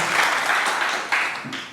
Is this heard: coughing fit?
no